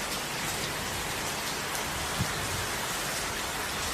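Heavy rain pours steadily during a storm, a dense, even hiss of falling water that continues unbroken throughout, with no voices.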